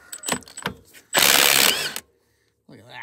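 Ratchet wrench with a big 27 mm socket loosening the axle nut on a 2008 Suzuki KingQuad ATV during a CV boot replacement: a few clicks, then one loud, dense burst of rapid ratcheting lasting nearly a second, and a brief voice afterward.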